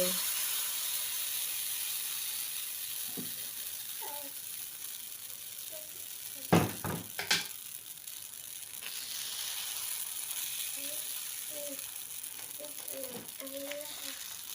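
A spicy pancake fries in oil in a pan, a soft, steady hiss of low sizzle with a brief cluster of clatters midway and a few faint tonal sounds in the background.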